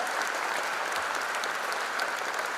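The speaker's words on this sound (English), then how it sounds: "Give a loud applause to show your gratitude for your parents." Students at a freshers' induction program applaud their parents, producing a dense, continuous wash of clapping from a sizable crowd that holds at a steady level throughout the short stretch.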